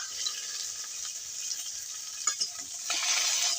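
Onions, a bay leaf and green chillies fry in oil in a pan, giving a steady hiss of sizzling with light stirring scrapes, growing brighter and louder near the end.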